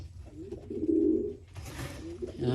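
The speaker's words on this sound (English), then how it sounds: "They're beautiful pigeons." Pigeons in a loft give soft, low cooing that swells in the middle and returns near the end, heard close and quiet amid faint background rustle and noise.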